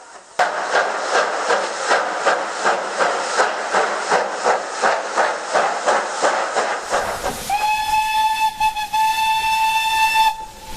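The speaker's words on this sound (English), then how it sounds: "His shrill whistle was as loud as his chuffs." A Standard 5 steam locomotive in the Trainz 22 train simulator chuffs in a steady, loud rhythm with hissing bursts, then a shrill, sustained steam whistle blows over continuing hiss.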